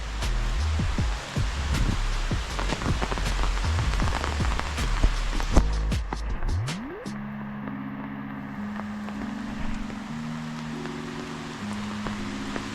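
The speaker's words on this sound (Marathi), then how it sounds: "पाऊस तर जोरात आलेला आहे" Heavy rain drums steadily up close in a dark Konkan forest, with scattered sharp drips and knocks, then eases into a softer wash while a low tonal hum sits underneath.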